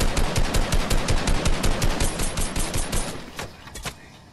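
Rapid automatic gunfire in a video game rattles out in a steady, fast burst of evenly spaced shots, loud and close. It then thins to a few last scattered rounds before stopping.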